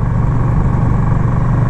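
A KTM motorcycle accelerates on the road, recorded from the rider's position, with a loud, dense, low engine drone and rumble that holds steady throughout.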